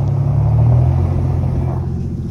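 A Dodge Dakota pickup grinds off-road through ruts, its engine a loud, steady low rumble close by that eases slightly toward the end, with no talking.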